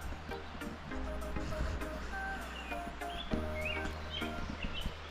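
Faint bird chirps and whistles drift in from a distance over a steady low rumble of outdoor ambience in the Hoh Rainforest.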